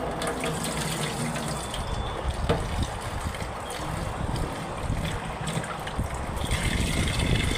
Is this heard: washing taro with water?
yes